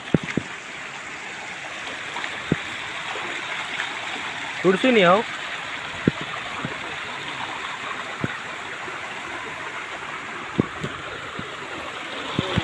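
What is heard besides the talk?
flowing stream water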